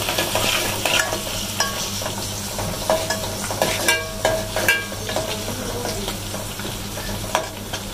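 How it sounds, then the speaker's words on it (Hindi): Onions and cumin seeds frying in a pan, a steady close sizzle broken by repeated scraping and clinking stirs of a spoon against the metal, with no talking. "इसी में भी थोड़ा सा जीरा डालेंगे, ये भी प्याज में ब्राउन हो जाए तो अदरक लहसुन का पेस्ट डालेंगे।"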